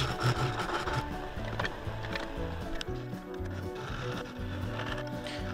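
Wood lathe turning a river sheoak bowl, a gouge taking off the leftover nub on the face: a steady close scraping and rubbing cut over a low motor hum, continuous throughout with no talking.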